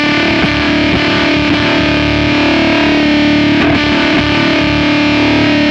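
An electric guitar played through an Anasounds Feed Me fuzz pedal gives a loud, thick, saturated sustained tone, with notes changing now and then under the continuous distortion.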